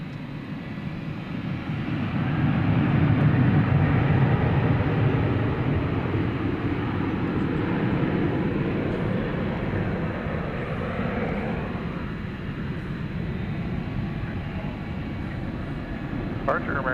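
An American Airlines jet departs DFW Airport at night, a broad, steady engine roar that builds to a peak after a few seconds and then holds as a lower rumble, close and continuous throughout.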